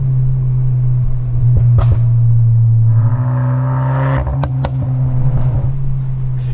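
A VW Golf R with its exhaust baffles open drones loudly and steadily under acceleration, broken by a few sharp pops and crackles toward the end, with no voices.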